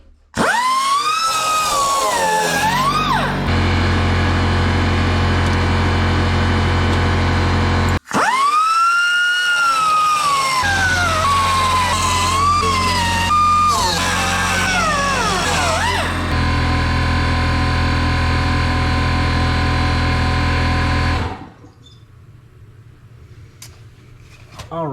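A pneumatic cutting wheel run off a small air compressor cuts the rusty trunk floor of a Saab Sonett. The whine is loud and high and rises and falls as the disc bites the metal, then ends with a brief pause.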